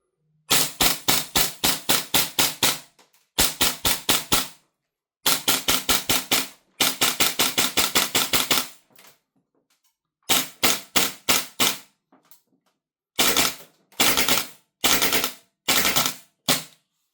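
A Marksman IX AR9 gas blowback airsoft rifle fires semi-auto in quick strings of sharp, loud, close cracks with bolt clacks, grouped in bursts separated by short pauses.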